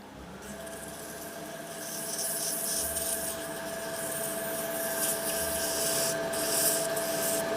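Sandpaper rubbing a tinted resin shaving brush handle spinning on a wood lathe, a continuous hissing abrasive scrape with a faint steady motor whine underneath, gradually growing slightly louder.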